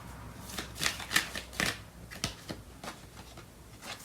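Tarot cards being shuffled by hand, a soft run of riffling and sliding card sounds with small flicks, close and quiet, with no one speaking.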